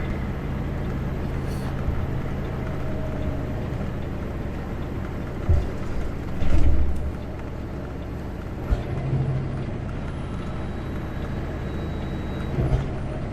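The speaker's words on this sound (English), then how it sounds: "Oh, that's the same truck that was at the brake track." A slow truck rolls past on a mountain highway, a low rumbling drone running throughout with a few brief hissing bursts and thumps of air brakes, moderately loud and with no talking.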